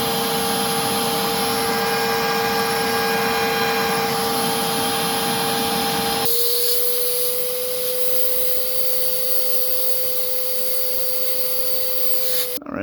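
A Clean Obsessed co888 vacuum runs continuously with a loud whooshing airflow and a steady motor whine, the tone shifting abruptly partway through as the airflow changes, then cutting off at the end.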